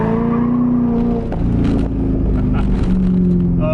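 A C5 Corvette's V8 revs and pulls hard, engine pitch climbing through gears with a brief shift dip, loud and close in the cabin or nearby.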